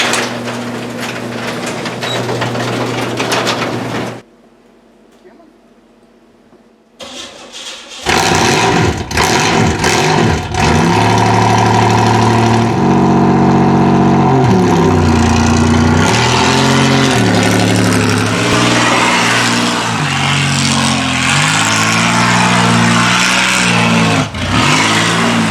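Oldsmobile car engine idling, cutting out to near silence for a few seconds, then cranking and starting up into a loud, rough running rumble with uneven revs that continues close by to the end.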